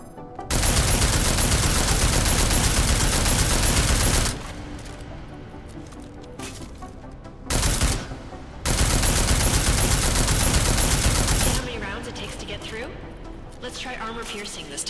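Sustained bursts of automatic gunfire from armor-piercing rounds in the video game Deus Ex: Mankind Divided, loud and dense in long stretches with short pauses between volleys and quieter game ambience in the gaps.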